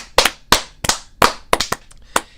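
A handful of people clap in loose unison on a live stream show, about eight loud, close, sharp claps spaced irregularly with short silences between.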